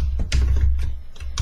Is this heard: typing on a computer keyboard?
yes